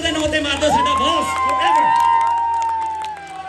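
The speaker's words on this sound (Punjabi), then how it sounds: "ਤਾੜੀ ਇੱਕ ਵਾਰੀ ਤਰਲੋਕ ਸਿੰਘ ਕੁੰਡਰ ਦੇ ਨਾਂ 'ਤੇ ਮਾਰ ਦਿਓ" An audience cheers at a concert in Kelowna, BC. A loud, close crowd roar carries rising whistles and whoops that last through the few seconds.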